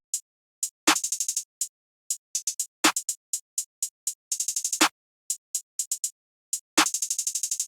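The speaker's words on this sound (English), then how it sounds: "I used the Ferno Perky clap, and I laid down this pretty basic and like the standard clap pattern" A basic, standard clap pattern built from a Ferno Perky clap sample in a trap-style beat: sharp, bright claps in quick rhythmic bursts and rolls, with a few louder, fuller hits marking the pattern, loud and alone.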